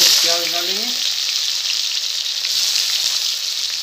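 Onions frying with cumin seeds in a pan for poha, a loud continuous sizzle and crackle close up, with a brief voice at the start.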